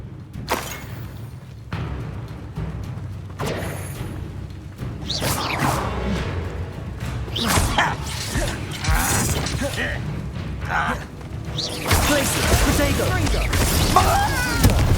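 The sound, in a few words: spellcasting effects from the video game Hogwarts Legacy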